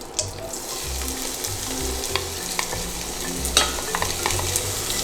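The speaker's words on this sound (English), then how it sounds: "Once they start to smell really good, we're going to add our onions." Onions frying in a pan for potato samosas give a steady close sizzle with scattered crackles. Low stirring knocks and scrapes come through now and then, and no one speaks.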